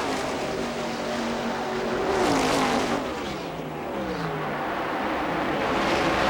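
Stock cars in the 1981 Daytona 500 drone past at speed, their engine notes rising and sliding in pitch as a pack in the lead draft roars by, steady and fairly distant.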